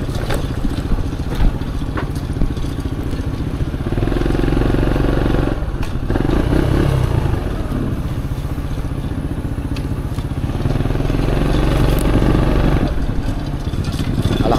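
A new motorcycle engine runs at close range on a ride home, producing a continuous low rumble with rough, clattering texture and small swells in level over several seconds.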